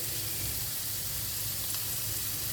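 Onions and peppers grilling in a pan give off a continuous, close hissing sizzle, even and unbroken for the whole moment.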